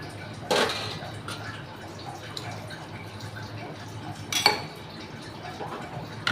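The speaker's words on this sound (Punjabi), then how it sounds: "ਤਾਂ ਇੱਕ ਗਲਾਸ ਜੀ ਪਾਣੀ ਦਾ ਆਪਾਂ ਹੋਰ ਪਾ ਦਿੰਨੇ" Water is poured from a glass into a pot of simmering pakora and vadiyan curry, two short splashing bursts with faint kitchen clatter between them, no voices.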